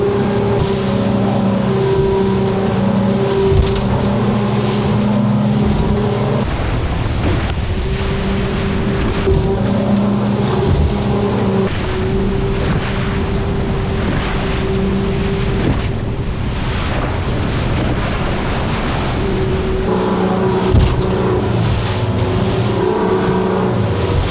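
Boat motoring through South Passage at Coral Bay in light wind, a loud steady engine drone mixed with rushing water and wind buffeting on the microphone, continuous throughout with no voices.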